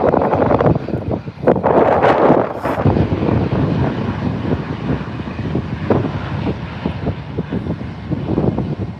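Airplanes at Manchester Airport during Storm Eowyn produce a roaring jet engine sound mixed with heavy buffeting wind against the microphone, loud and sustained with gusty surges throughout.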